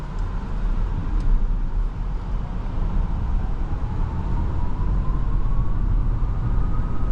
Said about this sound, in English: Can't wait to get a nice acceleration right here.